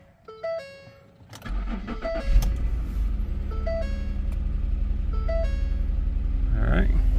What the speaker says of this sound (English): We're gonna get in, crank the car.